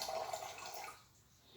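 Drinking water pours into a container of solute, a soft continuous splashing trickle that fades out after about a second, faint and alone.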